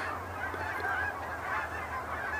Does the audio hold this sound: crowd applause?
no